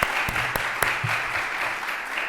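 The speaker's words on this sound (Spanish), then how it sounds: "Podemos aplaudir." A conference audience applauds a debate panel in a hall with full, steady clapping. A few sharper claps stand out near the start, and the applause holds at an even level throughout.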